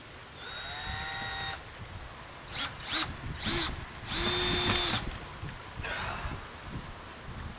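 A handheld power drill drives Phillips screws into the frame of a large DIY outdoor enclosure, with several short whirring bursts of rising and falling pitch, the longest near the end, loud and close with no talking.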